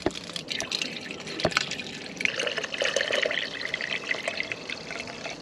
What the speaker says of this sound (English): So we're going to take a water hose,